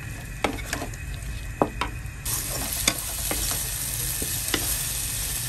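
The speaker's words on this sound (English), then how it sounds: "This is a very fast and quick saute." Garlic sautés fast in a frying pan for fried bee hoon with soy sauce and prawns, giving a steady close sizzle. Stirring scrapes and pan clicks break through it now and then, and the frying swells louder partway through.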